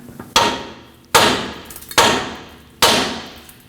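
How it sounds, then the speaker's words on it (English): Four sharp metallic hammer blows on a Nissan Frontier's outer tie rod stud, evenly spaced about a second apart, each ringing briefly before the next strike; close and loud with no talking. "Now hit this with a hammer and break free that stud."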